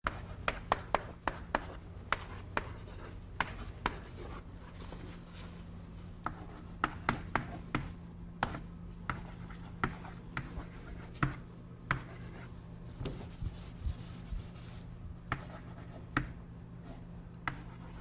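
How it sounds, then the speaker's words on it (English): Pen or marker strokes on paper or a board while sketching a processor pipeline diagram by hand: a long run of brief, irregular scratches and taps, close and fairly quiet, with no talking over them. "So let's briefly draw the pipeline diagram"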